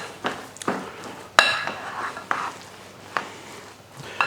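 Liver dumpling mixture being stirred in a bowl, with irregular clinks and scrapes of a utensil against the dish and soft wet mixing sounds, close and moderately loud.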